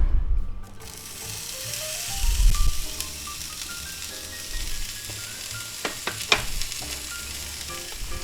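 Onions frying on a grill for a ham-steak sub sandwich, a close, continuous hiss and sizzle with stirring scrapes and a few sharp clicks of a utensil, no talk.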